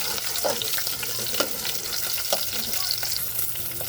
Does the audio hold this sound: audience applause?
no